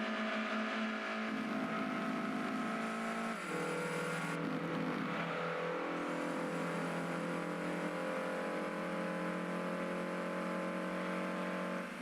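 Toyota Supra engine from the racing video game Gran Turismo 2, a steady synthesized drone with a gear-change pitch drop partway through, loud and continuous with no talking.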